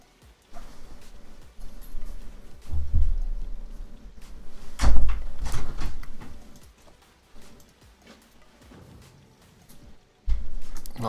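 Door thudding shut in an online game, with several muffled knocks and bumps spread out, then one firm close at the end.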